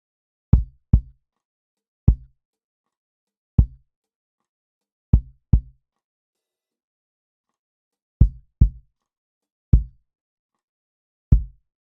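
Dry processed kick drum with high-end click boosted by dynamic EQ in a neo-soul style, struck in short isolated thumps, sometimes in quick pairs, with silence between hits.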